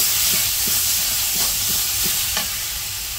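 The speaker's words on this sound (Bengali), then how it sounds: "জিরার গুঁড়া, ধনিয়ার গুঁড়া, সব মশলা দিয়ে দিচ্ছি। এখন একটু মিশিয়ে কষিয়ে নিই।" Cumin and coriander powder masala being stirred and fried in a pan, a steady hiss of frying with soft rhythmic scraping strokes of a spoon running throughout, close and fairly loud.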